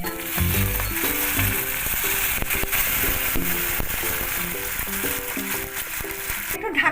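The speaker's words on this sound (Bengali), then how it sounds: "এটা আমি একটু ফুটন্ত জল দিয়ে দিলাম" Boiling water poured onto ginger paste in a hot pan: a steady, loud sizzle that continues throughout, with tonal background music underneath.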